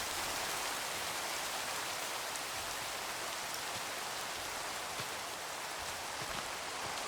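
Steady rain in a Minecraft-style video game, a constant soft hiss of many drops falling evenly without letup, moderately quiet and with no voices over it.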